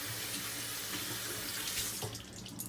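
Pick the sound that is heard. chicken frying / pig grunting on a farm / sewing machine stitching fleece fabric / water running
water running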